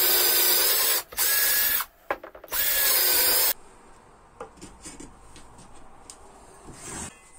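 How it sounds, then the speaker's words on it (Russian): A cordless drill-driver bores a hole along a wall in a few loud, whirring bursts with brief pauses between them, followed by quieter clicks and handling noises. "Берем шуруповерт и прям вдоль стеночки выставляем его и сверлим."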